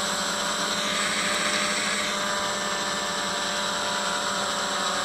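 A DJI F550 hexacopter hovering with an APM controller, its six motors giving a loud, steady, unbroken buzz with a constant high whine throughout.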